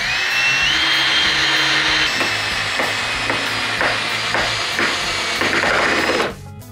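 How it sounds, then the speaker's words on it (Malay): A power drill drives a screw in a comparison of impact drivers and drills, a loud close whirring motor with repeated short pulses before it stops abruptly. "Kat sini saya pakai drill untuk ikat skru ni."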